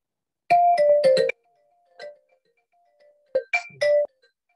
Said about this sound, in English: phone call from somebody.